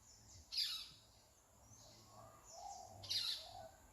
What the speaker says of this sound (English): I just wanted you to hear how nice the birds are singing